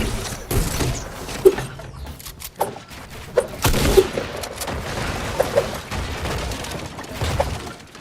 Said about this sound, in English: Take some heavy fire.